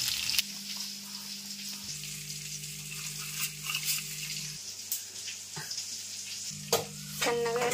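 Onion, garlic and spices crackle in hot oil for a tempering, a steady sizzle with occasional stirring clatters and a louder burst near the end, over a low hum.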